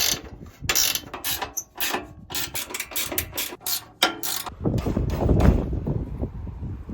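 Tightening the steel side pieces of a fourth-generation tow truck bumper with a ratchet, bursts of rapid clicking and metallic rattles, then a rougher grinding scrape near the end.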